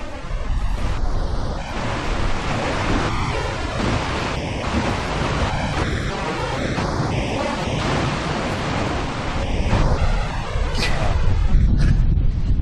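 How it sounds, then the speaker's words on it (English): Strong wind in Shinju roars steadily against the microphone, a dense rushing buffet that swells louder near the end, with faint voices beneath. "Woo! It is windy here."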